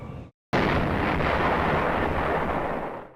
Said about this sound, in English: An explosion in the distance, but hits us so close to home.